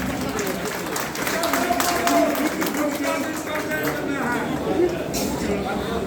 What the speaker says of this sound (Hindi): एक बार पुनः जोरदार तालियां।